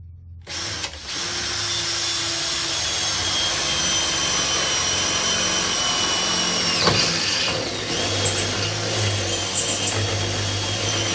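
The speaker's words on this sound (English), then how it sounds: "And we'll get that drilled out, and then we can get this regulator mounted up." A power drill bores holes through metal to mount a propane regulator on a Predator 8750 watt inverter generator, a steady whine running for several seconds, loud and close, with a brief pitch dip midway and no talking.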